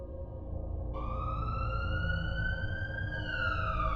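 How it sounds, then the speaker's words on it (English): A police siren passing along a residential street, a single wailing tone that rises then holds and wavers, heard from a distance and fairly faint over a low background rumble. "I woke up with the sounds of police sirens going down our street."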